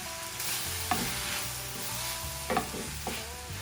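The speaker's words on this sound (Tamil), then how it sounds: "இப்போ இந்த சோஸ் எல்லாம் விட்டா பிறகு ஒரு கிளறி போட்டு, அதாவது இந்த வெங்காயம் மிளகாயில் எல்லாம் இந்த சோஸ் படுற மாதிரி ஒரு கிளறுன பிறகு" Onions and chillies coated in chili sauce sizzle steadily in a pan, with a spoon stirring through them in a few scraping strokes; close and continuous, with no talking.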